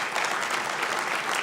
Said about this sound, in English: and Bob, a big round of applause